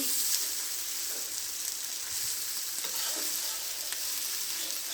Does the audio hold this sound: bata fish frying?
yes